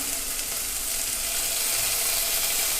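Curry leaves sizzle in hot oil in a pan that already holds garlic and onion, a steady, close, even crackle and hiss that runs unbroken with no voice over it.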